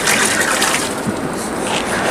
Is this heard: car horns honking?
no